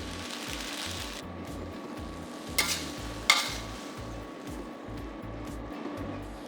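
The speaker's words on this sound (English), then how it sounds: "Fry the noodles for another 1 to 2 minutes till they are softened." Shrimp stir-fry noodles sizzle in sauce in a hot pan, a low steady frying hiss with rhythmic stirring thumps and two sharp utensil clinks.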